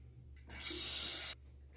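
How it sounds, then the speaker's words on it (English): A bathroom tap runs briefly while a Gillette Twinjector razor is rinsed under it, a soft close splash of water lasting under a second, quietly starting and stopping. "I started to rinse my razor again"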